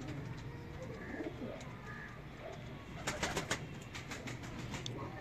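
Soft coos from teddy pigeons sit under a steady background murmur, with a brief cluster of louder, sharper calls partway through.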